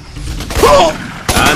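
Gunfire in the jungle shooter game Raven Squad: two loud, sharp bursts about half a second apart, with a brief voice between them.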